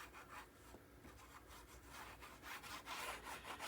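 Paper is trimmed to fit a page of a coral reef themed mini album, giving a quiet, rapid scraping and rasping with rhythmic strokes close by, with no voices.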